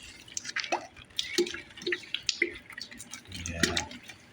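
Water drips and trickles onto potted plants outdoors, with a few irregular, close, soft splashes and patters over a quiet background.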